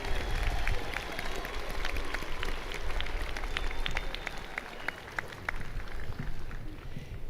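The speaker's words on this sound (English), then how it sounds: "One more round of applause for our graduate students." Audience applause at a spring commencement ceremony for graduate students, a steady wash of clapping from a large crowd in a hall that continues evenly for several seconds with some low rumble beneath.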